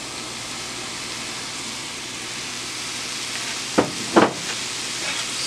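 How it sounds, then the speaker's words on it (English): Mushrooms hit hot oil in a pan and settle into a soft, even sizzle, broken by a couple of sharp clatters near the end, with no voices. "now that the oil is hot, I'm going to add the mushrooms"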